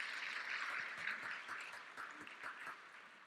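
A congregation at a Korean Full Gospel church Christmas service claps faintly, with scattered, uneven hand claps at a low level from a distance.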